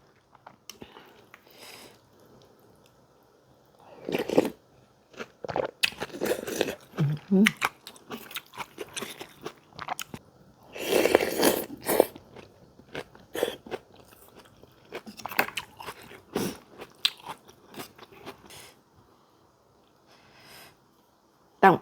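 Someone eats khanom jeen rice noodles with banana stem curry up close, with wet slurps, chewing and crunchy bites, plus occasional sniffs, in irregular bursts over a long stretch, and a little talk between mouthfuls.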